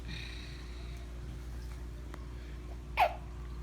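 A single quick sneeze rises briefly out of a quiet room with a low steady hum.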